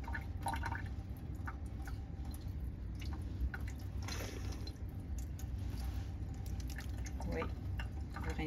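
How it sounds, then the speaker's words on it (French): A deionized water wash bottle rinses a stained smear slide in a lab, giving continuous close splashing and dripping, with a voice talking over the water. "vous allez rincer avec votre bouteille d'eau"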